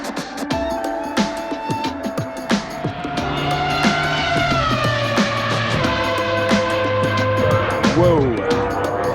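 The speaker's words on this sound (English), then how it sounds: "that is a car. So loud." Loud race cars roar past on a track, engines revving up and down with shifting pitch, one after another, with some voices faintly underneath.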